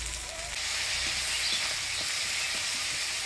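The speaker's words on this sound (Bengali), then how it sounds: "ফোড়নের তেলে মশলাপাতি দিয়ে ভালো করে নাড়াচাড়া করে নিলাম" Ground coriander, cumin, ginger and chili paste with crushed garlic, turmeric and salt sizzles steadily in hot tempering oil, a loud continuous hiss with faint scrapes of stirring, no voices.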